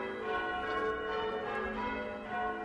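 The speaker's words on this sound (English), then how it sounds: "Absolutely great to hear those bells" Restored historic church bells ring in Ipswich, a rich overlapping peal of sustained metallic tones with soft repeated strikes, heard clearly but at a moderate distance with no talking.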